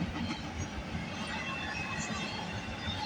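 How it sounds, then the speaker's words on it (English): A CN intermodal freight train carrying containers rolls past at Bronte Street in Milton on a rainy day, a continuous rumble and rattle of wagons heard from a moderate distance, fairly faint and steady. "This train originates from Brampton Intermodal Terminal, terminates at the Markham Yard at Holman, Illinois."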